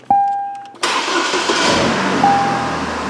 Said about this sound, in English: we should be able to crank the engine